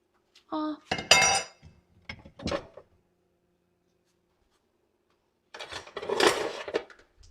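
Metal cutlery clinks and rattles as a spoon is picked out of a kitchen utensil holder during home cooking of potato soup, two short bursts of jangling near the mic separated by a few seconds of quiet.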